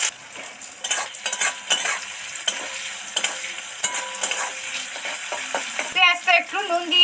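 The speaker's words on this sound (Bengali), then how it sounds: "সবার আগে পেঁয়াজ কুচিটা উঠিয়ে দেবো" Chopped onion fries in a pan with salt while a spatula stirs it, giving a close, continuous sizzle broken by repeated scraping and clinking strokes, with no talking.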